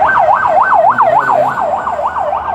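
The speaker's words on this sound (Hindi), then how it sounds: "ये देखो एम्बुलेंस गई" An ambulance siren wails loud and close on a city street in Almaty, its steady up-and-down sweep repeating about every third of a second over traffic rumble.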